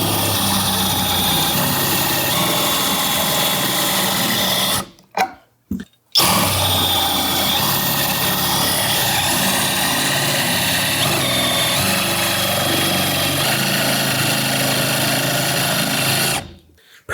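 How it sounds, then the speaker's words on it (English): A drill driver fitted with a plug cutter bores into hardwood, giving a loud, sustained whining buzz that stops briefly twice in quick succession, then runs on before cutting out. "the plug cutter in some hardwood"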